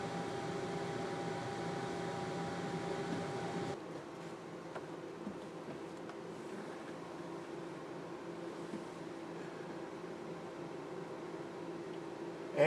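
An RV air conditioner blows air with a steady broadband whoosh and a faint hum. The sound drops a step partway through, then holds steady and quiet, with no voices.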